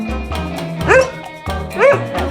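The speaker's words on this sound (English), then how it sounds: "Look at this dog." A dog gives two short, whiny, yelping barks about a second apart, close and fairly loud, with a steady low hum behind them.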